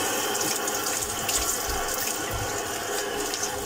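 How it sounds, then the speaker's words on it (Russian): Water running steadily from a tap into a bathroom sink, a continuous broadband rush with low gurgling underneath, close and fairly loud throughout, with no talking. "Так что включаем воду и нажимаем просто кнопку."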